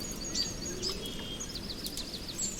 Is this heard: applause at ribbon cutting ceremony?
no